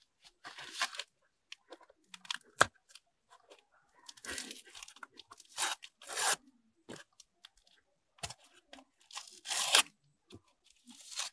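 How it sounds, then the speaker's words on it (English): A wrapper on a large 150-gram Amul fruit and nut chocolate bar is torn open up close, with quiet, intermittent bursts of crinkling and ripping. "And now we open Amul fruit and nut."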